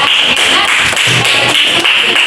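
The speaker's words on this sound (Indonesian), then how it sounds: "tepuk tangan dulu untuk kita semua ya" A classroom of pupils claps together in steady, dense applause that continues without pause, with no talking over it.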